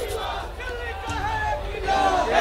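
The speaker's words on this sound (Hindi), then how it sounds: "लोग हैं वो यहाँ पर केजरीवाल के समर्थन में नारे लगा रहे हैं।" A large crowd at the Hanuman temple in Connaught Place chants political slogans in support of Arvind Kejriwal, a dense, continuous roar of many voices, rising toward the end.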